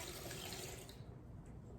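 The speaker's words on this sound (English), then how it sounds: "we're gonna add 1 cup of water to the blender" Steady rushing pour of 1 cup of water into a blender, loud and continuous, tapering slightly toward the end, with no voices.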